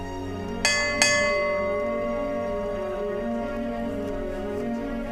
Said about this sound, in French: ils vont sonner la cloche